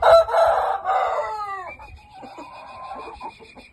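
A Shamo rooster crows close and loud in one long call, with clucking and bird calls from the pen continuing faintly after it.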